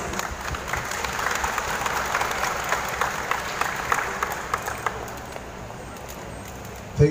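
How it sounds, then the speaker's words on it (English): Graduation crowd at a Talisay and Lapu-Lapu technical training center applauds the guest speaker, a dense, fairly close patter of clapping that holds steady for about five seconds and then dies away into room quiet. "A big round of applause"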